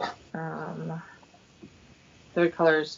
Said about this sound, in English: So sorry for my dog right now.